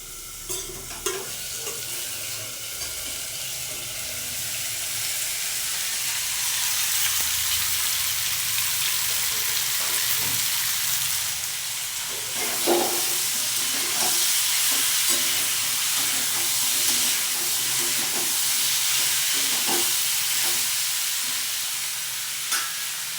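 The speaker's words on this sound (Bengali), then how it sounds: "কষিয়ে নিয়ে এইবার পরিমাণ মতো জল দিয়ে তরকারিটাকে সিদ্ধ হওয়ার জন্য অপেক্ষা করব।" Spiced curry sizzles and simmers in a pan after water is poured in, giving a steady hiss and bubbling with occasional stirring scrapes and clinks, fairly close and without talk.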